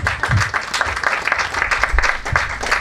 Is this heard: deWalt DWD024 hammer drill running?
no